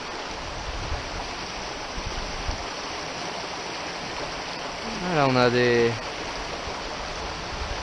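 A small river in Haute-Loire, trout water, flowing with a steady, close rushing wash. A voice speaks briefly, and a short rising tonal sound cuts through near the end.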